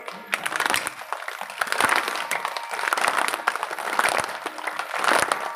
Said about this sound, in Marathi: टाळी अशी वाजवायची, एक आवाज आला पाहिजे टाळीचा